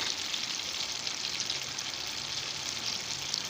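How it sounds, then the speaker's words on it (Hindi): Potatoes frying in hot oil over high flame for aloo methi make a constant, even sizzle, fairly quiet and unbroken, with no voices. "आलू को अच्छी तरह से फ्राई कर लेना"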